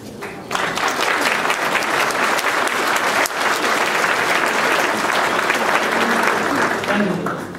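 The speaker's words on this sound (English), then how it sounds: "please give them a round of applause" A banquet audience at a Chinese community center's Lunar New Year spring dinner breaks into sustained applause, dense and even clapping that swells in and holds loudly throughout.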